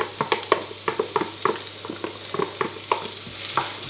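Garlic and onion fry in a pan for aubergine lasagne, a constant sizzle cut by quick, rhythmic spatula scrapes and taps, close and fairly loud with no talking.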